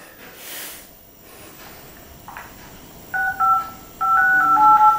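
A mobile phone's dialing tones: a few short beeping key tones followed by a steady run of pitched dial tones, close and clear with no talking over them.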